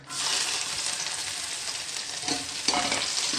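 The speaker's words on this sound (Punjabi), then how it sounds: "ਤੇਲ ਆਪਣਾ ਚੰਗੀ ਤਰ੍ਹਾਂ ਗਰਮ ਹੋ ਗਿਆ ਤਾਂ ਸਭ ਤੋਂ ਪਹਿਲਾਂ ਇਹਦੇ ਵਿੱਚ ਆਪਾਂ ਪਾਵਾਂਗੇ ਲਸਣ ਤੇ ਅਦਰਕ" Garlic and ginger drop into well-heated oil for a tempering and fry with a bright, steady sizzle that starts abruptly and stays loud and even, with no voices.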